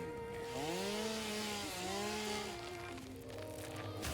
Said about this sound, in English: Cut down trees and clear out the floppy space.